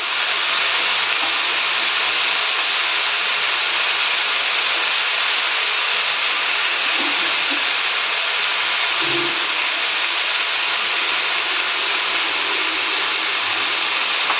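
Butter sizzling in a pot of chicken stew: a steady, loud broadband hiss of frying fat that runs unbroken throughout, with a few faint bumps from the pan, and no talking.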